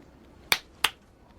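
Two crisp, close finger snaps about a third of a second apart, switching on the Luskač gadget, with near silence around them.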